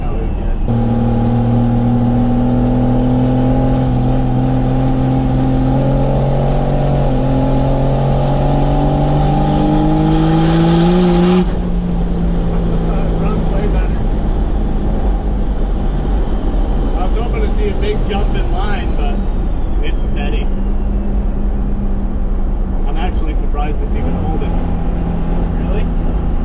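Engine of a first-generation truck with a suspected failing transmission revs to higher RPM while driving, a steady rising drone with harmonics climbing over about eleven seconds before dropping back, then continuing under road noise and talk.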